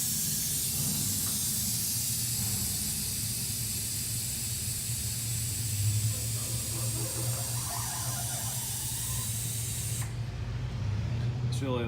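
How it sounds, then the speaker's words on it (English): Air hisses steadily out of the air suspension bags on a Harley Dyna motorcycle, a loud continuous spray-like release lasting about ten seconds before cutting off abruptly, with a voice heard alongside. "so I might dump the air out of these bags to make it a little bit more level"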